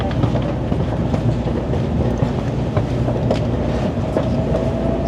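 Shinkansen bullet train pulling out of Osaka station, heard from inside the carriage as a steady, loud low rumble with faint track clatter and a rising whine, no talking.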